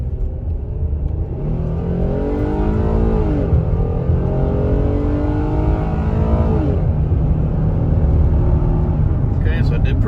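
A 2011 Ford Explorer XLT with a 3.5 V6 pulls away from a stop, its engine note rising through two clear climbs in pitch with a gear change between them, loud and steady from inside the cabin.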